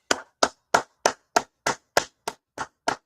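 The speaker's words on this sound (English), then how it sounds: "Go ahead, clap it up." Ten sharp, evenly spaced handclaps ring out one after another at a steady rhythm, each a crisp isolated burst with brief silence between, close and moderately loud.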